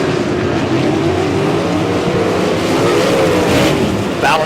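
Sprint cars racing on the Humboldt Speedway dirt track, loud continuous engine roar from a pack of cars, with a rising whine as one passes close near the end.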